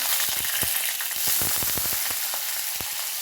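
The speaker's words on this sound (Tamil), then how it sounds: "இப்போ நம்ம இந்த கட் வச்சுருக்கிற உருளைக்கிழங்க சேர்த்துடலாம்" Oil hisses and sizzles continuously as potatoes fry, with scattered crackles and pops and occasional stirring clicks close by.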